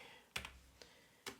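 Typing on a computer keyboard during command-line work, a few isolated clicky key strikes spaced apart, close and fairly quiet in an otherwise still room.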